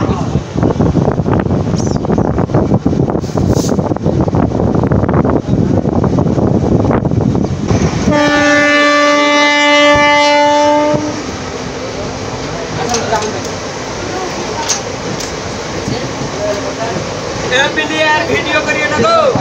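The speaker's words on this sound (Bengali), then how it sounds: "আর ট্রেন এখন স্লো আছে," Moving slowly through open green fields, a train rumbles with loud wind buffeting, then a horn blares with a sustained tone before the steady running noise continues; voices are heard over it.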